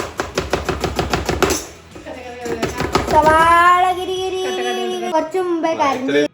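A knife chops onion for a salad on a board, a fast even run of sharp close taps that stops as a voice starts talking and goes on over the scene.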